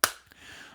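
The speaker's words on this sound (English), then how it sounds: "clap warning" A single sharp hand clap, loud and close, followed by a brief faint echo and quiet room tone.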